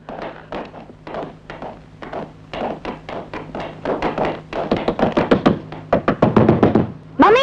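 Repeated knocking on a door, series of sharp knocks in uneven bursts that grow louder and faster, close by, with no talk over them.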